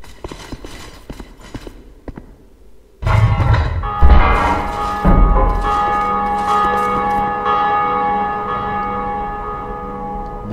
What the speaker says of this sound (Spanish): puedes tocar la campana